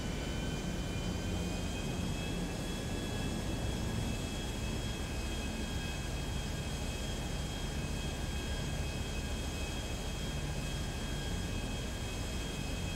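Steady, loud drone of an airplane flying in GTA 5 Online, with a continuous engine roar and high whining tones held constant throughout, no talk over it.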